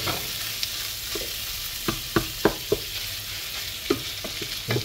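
A spoon stirs food frying in a pan seasoned with pepper, a soft steady sizzle with scattered light scraping clicks as the food is moved around, and no voices.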